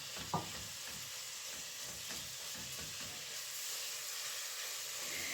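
Mixed minced beef and pork fries in a home kitchen for a ragù, giving a soft, steady sizzle and hiss with a sharp scrape of stirring near the start, no talking.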